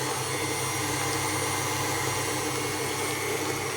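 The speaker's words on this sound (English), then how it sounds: "So we're going to be doing that again on like a medium-ish speed. This is a new mixer, so I'm working on about 3 or 4." A new electric stand mixer runs steadily at medium speed, around setting 3 or 4, creaming tart dough, giving a constant loud motor whir and hum with no pauses.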